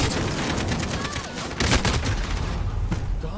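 Gunfire from an online shooter video game comes as dense, rapid bursts of shots, loud and continuous for a few seconds.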